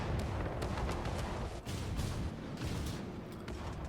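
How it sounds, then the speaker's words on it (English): Warship guns firing in the video game World of Warships, secondary batteries and then main battery against a battleship, heard as a dense, continuous roll of booms and blasts at moderate level with no talk. "I'm getting shot by secondaries. Now he opens up with his main battery on our battleship."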